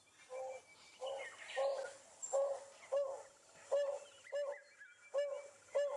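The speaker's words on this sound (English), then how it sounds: "Red-chested cuckoo, everyone, up in the top of the tree" Red-chested cuckoo call played back from a bird app, a repeated clear whistled phrase sounding about every half second, fairly faint and distant, alone over quiet outdoor background.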